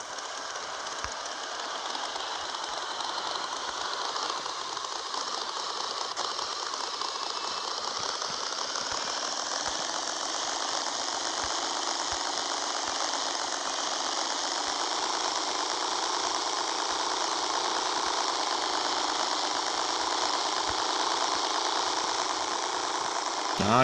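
Motorbike engine idling in the video game Rules of Survival, a steady continuous drone that holds at a constant level and rises slightly toward the end, with no talk over it.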